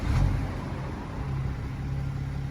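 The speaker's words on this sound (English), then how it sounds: "So the car is going to magically start whilst I'm going to film these tailpipes and see if anything comes out" A BMW E90/E92 335d diesel with a blocked DPF rumbles at the tailpipes, a low steady engine drone with a slightly stronger burst at the start and no voices.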